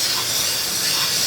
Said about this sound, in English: we're just gonna hit all that open area with high temp exhaust paint